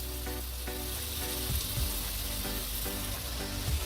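Slices of bitter gourd (karela) fry in a pan with a steady, moderately loud sizzle, broken by a few soft knocks and clinks as the pieces are handled; no voices.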